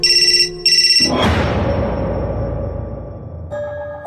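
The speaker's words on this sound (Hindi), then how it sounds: "चार्ज पर लगा उसका फोन अचानक से बज उठा।" A mobile phone ringtone chimes in short repeated bursts as the phone rings while charging, cut off by a loud crash that rings out and slowly decays before a quieter tone resumes.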